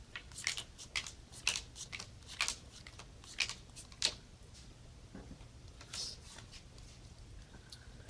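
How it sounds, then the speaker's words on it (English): Playing cards for the MoodyCat card game are dealt onto a table in a series of light, crisp snaps and flicks, about a dozen quiet separate taps at an uneven rhythm, close and soft with no talking. "And the last step is to deal 6 cards to each player."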